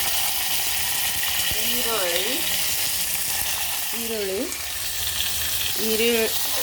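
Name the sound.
onions frying in a pan for vegetable pulao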